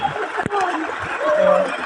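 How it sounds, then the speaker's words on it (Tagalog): Clear river current flowing over a shallow bed, a steady close rush and splash with one sharp splash near the start, while a person talks over it. "Ganda yung agos dito."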